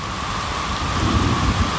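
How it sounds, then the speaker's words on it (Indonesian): Heavy rain pouring down on a hilly oil palm plantation during harvest, a dense, loud, steady wash of drops with a low rumble beneath, no voices. "tiba-tiba turun hujan deras"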